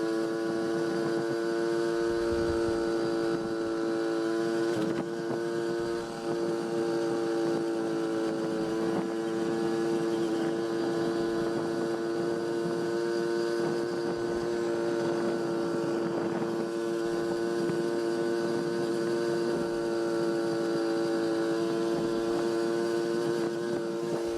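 A 1981 Honda NC50 Express moped with a SHA carburetor cruising along a road, its small engine holding a steady, buzzy drone close by with light wind rumble throughout.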